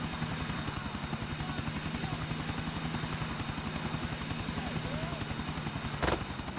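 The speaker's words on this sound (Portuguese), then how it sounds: "Vou pousar a aeronave aqui e a gente vai a pé mesmo." A police helicopter in GTA 4 comes in to land, its rotor thumping in a steady fast pulse throughout with a constant engine whine, loud and close, while a voice talks over it.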